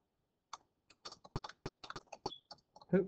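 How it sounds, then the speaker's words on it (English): Irregular clicking keystrokes on a computer keyboard, quick bursts of typing heard close up against near silence. "Please stop typing."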